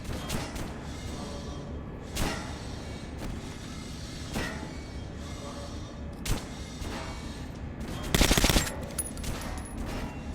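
Gunfire at a shooting range in Metro Last Light: a gun fires as sharp, spaced single reports roughly every two seconds, with a dense burst near the end, over a steady ambient hum.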